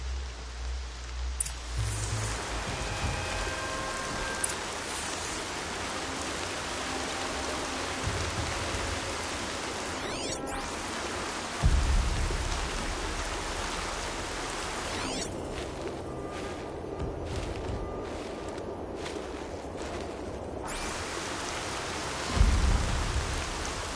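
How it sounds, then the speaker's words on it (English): Steady rain patters in Horizon Zero Dawn, with low rumbles of thunder rolling in at intervals, a continuous soft wash of rainfall at moderate level. "More rain. My boots will get damp."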